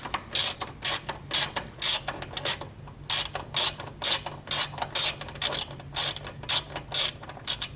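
A ratchet loosens an 8mm bolt on the deck bracket of a Cub Cadet XT1 mower, making a regular, close series of rapid clicking bursts with short pauses between strokes.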